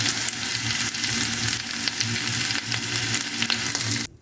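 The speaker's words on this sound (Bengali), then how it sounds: "এখন ভেজে নিব" Tuna fish kebabs frying in a pan give a steady, close, dense sizzle that runs unbroken for about four seconds, then cuts off abruptly.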